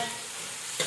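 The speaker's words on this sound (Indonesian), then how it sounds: "Sekaligus kita kasih masuk serai ya, kita aduk sampai dia" Galangal and lemongrass stirred and frying in a pan for spicy rica-rica meat, a steady close sizzle with a brief scraping swell near the end, no voices.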